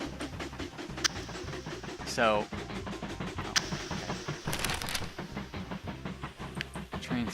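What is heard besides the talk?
train passing in Mashinky video game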